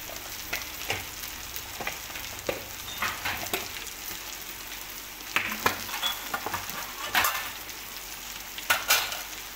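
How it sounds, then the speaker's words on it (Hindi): Okra fries in a pan with dry spices and salt, giving a steady soft sizzle. Scattered scraping and stirring clicks from a spoon against the pan come through close and fairly quiet. "भिंडी डाल दी है और थोड़े से सूखे मसाले, नमक डाल दिया है।"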